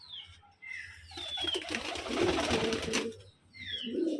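Pigeons kept in a small enclosed indoor room coo and call close by, soft whistling notes and throaty murmurs rising to a louder busy burst in the middle, then quieter calls with a brief flutter.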